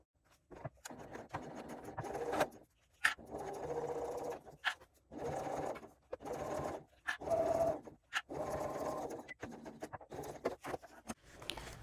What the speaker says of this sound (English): Using our shorter stitch length, back stitching at the beginning and at the end, and sewing at 3/8 of an inch.